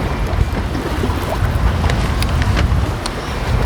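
Fishing boat engine running at sea, a steady loud rumble mixed with wind buffeting the microphone and occasional clicks, continuous throughout.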